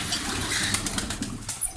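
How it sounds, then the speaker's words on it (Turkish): Pigeons from a flock of 32 in a loft, with soft cooing and brief bursts of wing flapping over a steady close background rustle, no voices. "burada 32 tane güvercin var."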